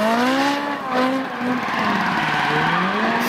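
A Ferrari drifting in a Swedish rap music video, the tires letting out a long, loud, wavering squeal with engine roar, continuous and close.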